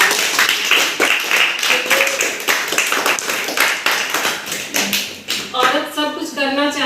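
An audience claps together in a steady burst of applause, with one voice speaking over it toward the end.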